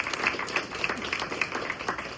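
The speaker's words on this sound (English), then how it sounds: "And let's give that a round of applause." Scattered clapping from a restaurant audience at the unveiling of a whiskey made for the restaurant, a light, uneven patter of hands with faint voices underneath.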